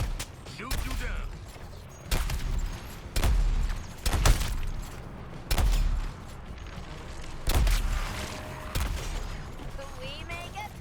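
Heavy video game gunfire from a shooter featuring Deadshot, with bursts of booming shots arriving in clusters every second or two over low rumble, some speech mixed in.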